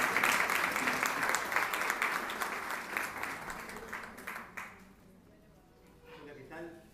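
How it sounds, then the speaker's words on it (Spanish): An audience applauding, with dense, loud clapping that holds steady for several seconds, then thins out and fades to a few scattered claps. "un aplauso, por favor"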